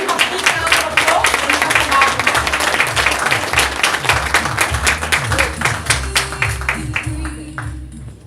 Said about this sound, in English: Please, from Brisbane, give a big round of applause.